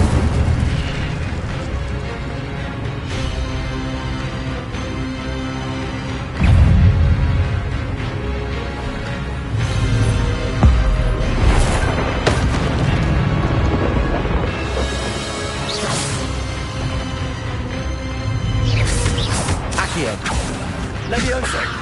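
Incendio fire spell casts in Hogwarts Legacy, bursts of whooshing flame and booming impacts layered over continuous game music and effects, with several loud hits spread through the clip.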